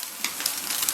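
Chopped scallions sizzle in a hot wok with beaten eggs over high heat for egg fried rice, a faint, steady crackling hiss with small pops and no talking.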